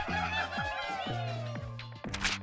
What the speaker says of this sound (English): you pull out your phone and play a few games of Angry Birds